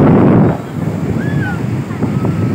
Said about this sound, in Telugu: ఎలాంటి అలలు వస్తున్నాయి, ఎంత స్పీడ్ వస్తాయి కదా చూడండి